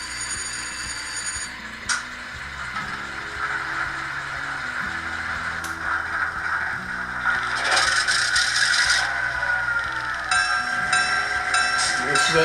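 Startup sequence from a Soundtraxx SD7 sound decoder in a P2K model diesel locomotive, with mechanical clanks, hissing air and a rising engine drone building steadily over about twelve seconds, played at moderate volume.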